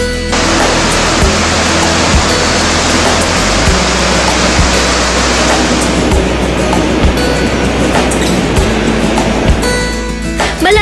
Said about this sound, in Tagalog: Malamig at malinaw ang tubig na dumadaloy sa ilog na ito